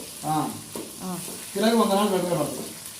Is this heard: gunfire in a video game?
no